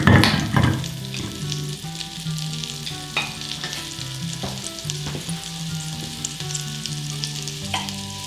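Melted butter sizzles in a pan on a wood cook stove, a steady close crackle running throughout, with a few louder knocks and clatters of utensils near the start and scattered through.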